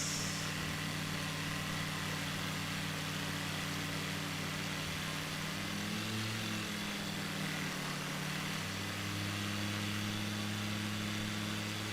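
Steady drone of a light aircraft engine in Microsoft Flight Simulator 2020, sustained and even across the whole stretch with a slight pitch dip midway, heard alone with no talking.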